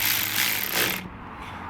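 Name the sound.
ratchet wrench tightening bolt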